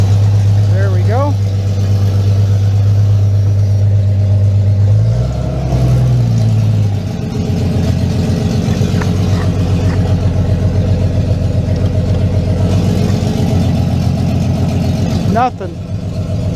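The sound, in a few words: 1996 Jeep Cherokee XJ engine running and idling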